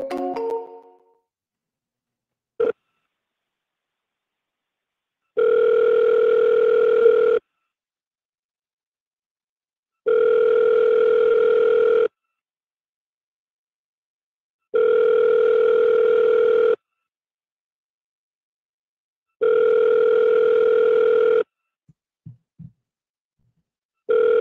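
Telephone ringback on a repeated outgoing call: four long, evenly spaced tone bursts of about two seconds each, separated by silences of roughly three seconds, loud and clear with nothing else under them.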